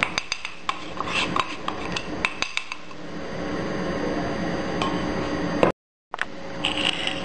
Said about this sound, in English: Mix rice flour.